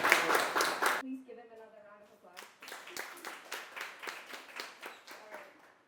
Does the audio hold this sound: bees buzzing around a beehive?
no